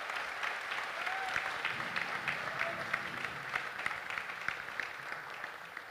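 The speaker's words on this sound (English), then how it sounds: "The choir master, Victorian, ladies and gentlemen, please give him a round of applause." Concert audience claps for the Trinity International Choir's choir master, a dense, even round of applause sustained from start to finish at a moderate distance.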